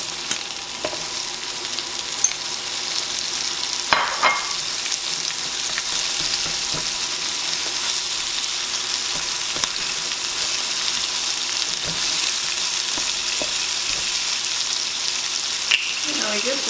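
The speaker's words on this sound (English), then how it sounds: "Now it's time to put in the onions." Onions sizzle steadily in a hot pan for a pork chop casserole, a continuous close frying hiss with occasional stirring scrapes, no talk over it.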